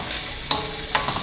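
Rice vinegar hits hot rice in a frying pan for fried rice, a steady crackling sizzle with two sharp stirring scrapes, close and clear with no voices.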